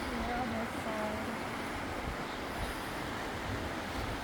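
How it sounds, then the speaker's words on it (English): Rapids on the Maquoketa River beside an old mill site, a steady, loud broadband rush of water with wind buffeting, continuous throughout with faint tonal traces early on. "They do have these rapids over here on this side."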